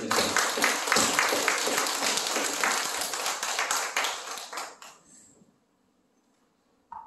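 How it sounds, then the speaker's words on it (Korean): Church congregation clapping during a Sunday worship service, a dense burst of many hands that fades out over about five seconds into near silence, with a brief sound at the very end. "박수 한번 치겠습니다."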